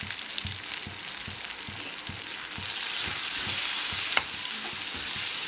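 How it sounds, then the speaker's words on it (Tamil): Chopped mint leaves sautéing in a pan for chicken gravy, a steady close sizzle with rhythmic stirring scrapes and a sharp clink near the end, no talk. "அதையும் போட்டு வணக்கிக்கலாம்"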